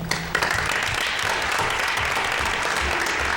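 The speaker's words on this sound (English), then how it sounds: "I'd like to give them a round of applause." An audience at a town deliberative session applauds the robotics team, with a dense, steady round of clapping that fills the room and carries on evenly throughout.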